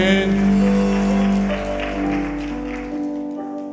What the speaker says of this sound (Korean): 영광의 박수 올리겠습니다